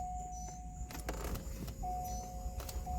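A faulty window regulator in a C5 Z06 Corvette whines as the power window motor runs, with clicks, knocks and rattles from inside the door, heard close up in a quiet setting.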